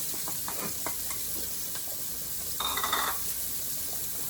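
Onion and peppers sizzling in olive oil in a pan just used to cook shrimp, for a shrimp and grits sauce. A soft, steady hiss with a few light utensil taps and a brief higher whistle-like squeal.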